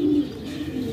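A male pigeon cooing softly, a brief low coo at the start followed by faint, steady background murmur, close and alone without talk.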